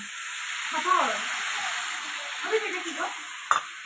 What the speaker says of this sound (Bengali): আমি একটু ঝোল দিয়ে দিচ্ছি